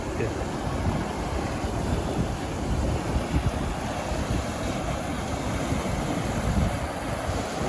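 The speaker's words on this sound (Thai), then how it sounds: "น้ำตกไหลเนาะ" A waterfall at a swimming spot in Springville, California pours in a continuous, dense rush of water, steady and fairly loud throughout, with some wind buffeting the microphone.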